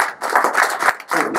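A small class audience claps for a debate team at an MBA human-resources debate, a short run of close, choppy clapping from a few hands, with brief gaps between bursts.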